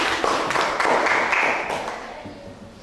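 A classroom of students applauds together, a burst of dense clapping that builds then gradually fades, with faint voices mixed in.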